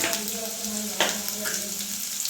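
Cumin seeds frying in hot oil in a pan with garlic already added, a steady close sizzle with a brief louder crackle burst partway through.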